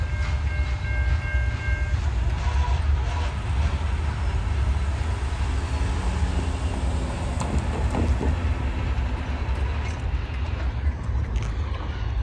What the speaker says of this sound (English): I think the reason why this train was going so slow is that they were actually dumping gravel on the tracks